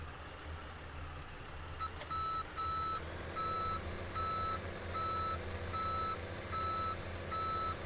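A Kenworth truck backing up to attach a snow plow, its reversing alarm beeping in a steady, regular pulse over a low engine rumble, fairly distant and with no talk.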